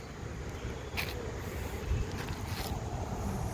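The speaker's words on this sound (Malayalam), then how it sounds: "നല്ല കാറ്റാണ് വൈകുന്നേരം ആയതുകൊണ്ട്" Steady, strong evening wind buffets the microphone with a low, continuous roar throughout, rising in gusts midway, on a truck journey from Bangalore to Perinthalmanna.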